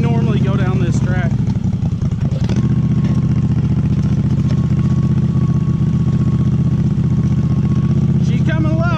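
A 688cc V-twin go kart engine runs steadily with a loud, throbbing, close-up drone and a brief blip of revs early on, while someone talks over it.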